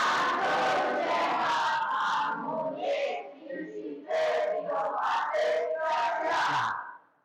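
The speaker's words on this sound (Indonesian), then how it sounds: "sekarang kita yel-yel sekolah kita ya, biar semangat" Schoolchildren in a classroom chant a school cheer together, a loud group shout with rhythmic bursts, a brief dip midway, then a final strong unison yell.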